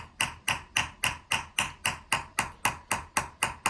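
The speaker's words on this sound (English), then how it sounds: "Hammering lighter than I was before, so I don't need much movement." A hammer lightly chases a metal vessel in a fast, even rhythm: about fourteen crisp, close taps, each ringing briefly before the next strike.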